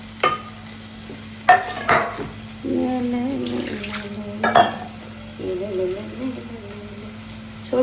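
Sardine fish curry cooks in a pan, stirred with close scraping and clattering strokes over a steady sizzle and bubbling, with a few louder knocks of the utensil.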